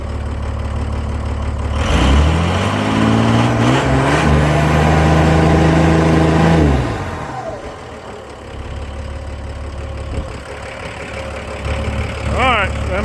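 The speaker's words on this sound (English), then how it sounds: "I just love the way those turbos spool." A Ford LCF ramp truck's turbocharged engine revs up loud and close, the rising turbo spool sweeping upward before the revs fall back to a steady idle with a faint whistle near the end.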